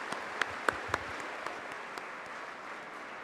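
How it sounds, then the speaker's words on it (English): Sparse, fairly quiet applause for sponsors at a college tech festival inauguration, a few distinct claps standing out early before settling into a soft, scattered patter. "Let's all give a huge round of applause for all our incredible sponsors."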